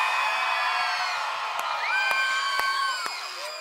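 A crowd of children at sixth grade camp cheering, whooping and shouting together, loud and sustained, with high rising yells and a few sharp claps or thumps scattered through the din.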